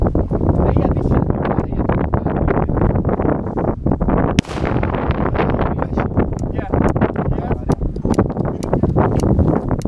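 Strong gusty wind buffets the microphone outdoors in Slovakia around New Year's Eve, a loud continuous roar with sharp bumps and pops, while voices talk over it.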